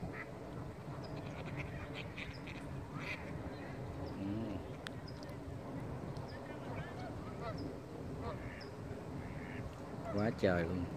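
Wild ducks, among them green-headed mallards, quack at an outdoor spot in the USA, with scattered calls and a louder close flurry of quacking near the end, under intermittent talk and background noise.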